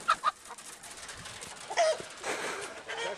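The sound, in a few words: chickens clucking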